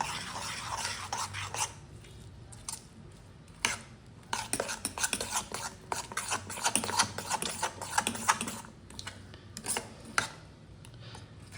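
Paddu batter with grated carrot and salt being stirred by hand in a bowl, a steady run of scraping, clinking strokes close up with brief pauses and no voices.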